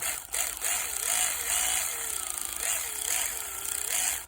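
A cheap electric ratchet works bolts loose on a 1995 Dodge Dakota, a close, continuous whirring motor with rising and falling pitch sweeps and a brief click near the start.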